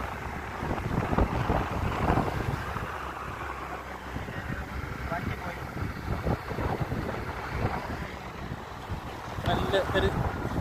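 A small motorboat runs along a narrow canal between paddy fields, its steady engine drone mixed with heavy wind buffeting across the whole stretch, while people talk over it.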